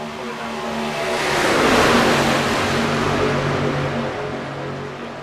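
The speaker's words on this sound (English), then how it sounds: "Here comes an entire group of cars now." A pack of race cars at Daytona International Speedway roars past close by, the engine noise swelling to a loud peak and then holding as a dense, sustained drone as the group sweeps into the corner.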